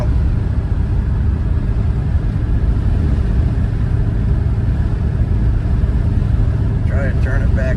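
A 1967 Ford Falcon with a 302 V8 and carburetor idles and runs with a steady, loud, close low rumble that continues unbroken throughout, and a brief voice-like sound comes in near the end.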